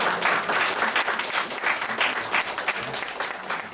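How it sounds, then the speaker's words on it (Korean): An audience at a graduate school spiritual retreat lecture applauding a professor, brisk clapping from a roomful of people, a fairly loud and steady patter that continues throughout without a clear break. "좋은 말씀을 해주신 우리 손원용 교수님께 다시 한번 박수 부탁드립니다."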